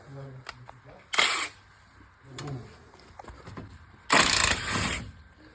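A nut is unscrewed and a steering tie-rod puller is fitted on an Opel Combo, giving short metallic clicks and two loud rasping bursts of tool work, close by, with quiet talk between them.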